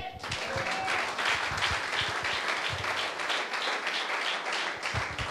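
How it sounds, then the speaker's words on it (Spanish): A church congregation applauds together during a sermon, a steady dense wash of clapping sustained for several seconds at moderate loudness, with faint voices mixed in. "¿Cuántos le aplauden?"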